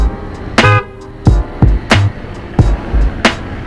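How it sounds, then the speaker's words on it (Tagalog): Several short Honda ADV 160 motorcycle horn toots sound at irregular intervals, close and loud, each a quick clipped beep with brief pauses between. "Busina."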